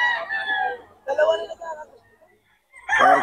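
Young roosters crow in short, strained, raspy bursts at an open-air market in Bocaue, Bulacan, three calls close by with brief gaps between them.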